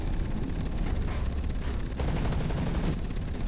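Automated turret in the mech game Hawken firing at an enemy: a steady, dense stream of rapid gunfire over a low rumble, continuous and fairly loud for the whole stretch.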